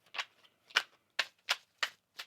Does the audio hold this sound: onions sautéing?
no